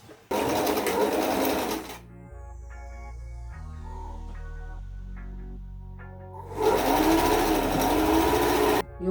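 Sewing machine stitching fishing-line casings into organza fabric, a loud steady whir in two bursts at start and end, with a quieter mechanical hum and clicks in between.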